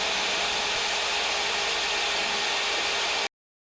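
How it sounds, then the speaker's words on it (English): A power drill bores steadily into a truck hitch's square steel tubing, a continuous close whine with grinding texture that cuts off abruptly, no voices heard. "I'm gonna drill a hole right here now."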